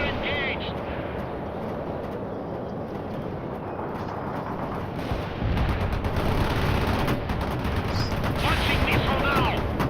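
Gunfire and weapon launches in the real-time war game World in Conflict, a dense, continuous rattle of shots and mechanical clatter with battle noise building partway through, under shouted voices.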